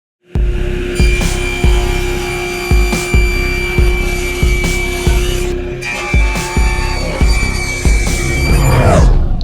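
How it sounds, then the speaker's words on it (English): A power saw cuts a big hunk of walnut to rough size, with a loud steady whine and rhythmic bursts of grinding as the blade bites repeatedly through the wood, close and continuous before winding down. "Got this big old hunk of walnut here, so I'm going to cut it to very rough size"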